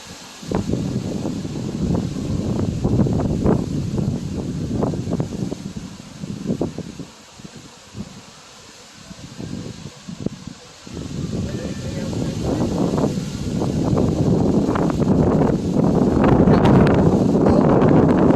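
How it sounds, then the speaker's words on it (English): Strong wind buffets the microphone in an old cemetery, a loud rumbling roar with gusts that briefly drop away and then return harder. "Yeah, this wind's crazy."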